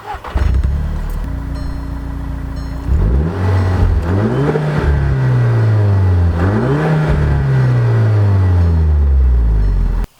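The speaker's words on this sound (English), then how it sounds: "I'm going to get a couple clips of it just being revved real quick for you." Mk6 Volkswagen GTI with an aftermarket cat-back exhaust, already warmed up, idling then revved in several loud rising-and-falling sweeps, close and alone with no talk.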